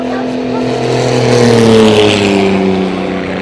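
A piston-engined fighter plane armed with six heavy machine guns drones loudly overhead at a tank battle reenactment, a steady powerful engine roar swelling and easing as it passes.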